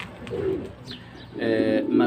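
Cheap domestic pigeons give soft, low coos, two separate rounds a beat apart, with faint background noise.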